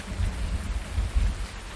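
Steady rain falling outdoors in the Farming Simulator 19 video game, a continuous low rumbling patter with a faint thunder-like roll, heard alone without voices.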